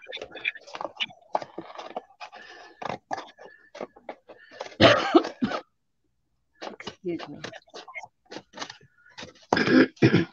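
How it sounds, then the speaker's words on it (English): Harsh bursts of coughing and throat clearing break up quiet, close speech, with a brief silent pause midway. "I'm sorry about the coughing, ladies."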